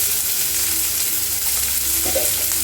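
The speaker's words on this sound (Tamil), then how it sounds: "இதை நல்லா ஃப்ரை பண்ணிக்கலாம்" Steady, dense sizzling of vegetables frying in a pan, continuous and fairly loud throughout with no talking.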